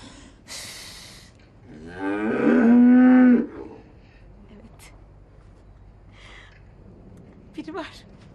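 An ox or other cattle lets out one loud, drawn-out moo in the middle of a TV drama scene, with people talking and breathing around it.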